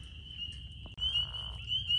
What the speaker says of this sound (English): you can hear that snoring in the background. That is pickerel frogs calling.